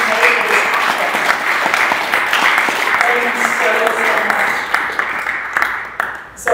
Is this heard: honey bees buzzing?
no